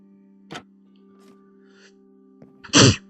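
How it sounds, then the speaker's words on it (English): A single loud, close sneeze bursts out near the end over a steady low electronic hum, after a few faint clicks and breaths. "Oh, I sneezed."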